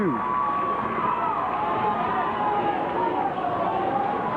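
Crowd noise from a packed high school basketball gym during a Paoli versus Monrovia semi-state game, a steady roar of chatter and cheering that holds at an even level throughout.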